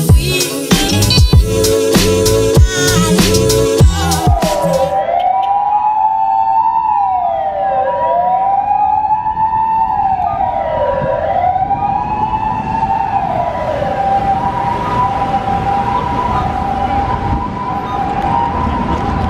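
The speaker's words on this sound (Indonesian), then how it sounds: "sekalinya ada ambulan lewat, mobil ke pinggir semua" An ambulance siren wails past along a busy street in Kyoto, Japan, loud and close, its rising and falling tone sweeping repeatedly after a burst of clattering city noise, then settling into a steadier two-tone pattern as it moves on.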